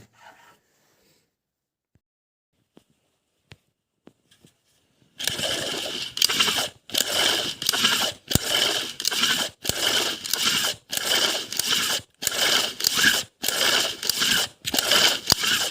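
After near silence with a few tiny ticks, a Rato R700i engine is turned over following a recoil starter repair. About ten evenly spaced rasping, whirring strokes repeat up close.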